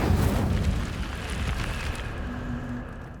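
The Incendio fire spell in Hogwarts Legacy erupts as a loud, roaring burst of flame. The blaze is strongest at the start and fades gradually over a few seconds, and no one speaks.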